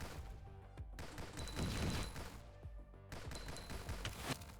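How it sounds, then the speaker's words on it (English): Enemy gunfire rattles in the action roguelite Nimrods, bursts of rapid shots and crashes with a short lull in the middle, fairly faint overall. "They're shooting bullets at me."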